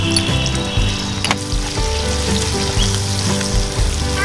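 Oil sizzles loudly in a pan while cooking for a taro (kochu) leaf and hilsa fish head dish, a close, continuous crackling fry broken by scraping and clattering from stirring.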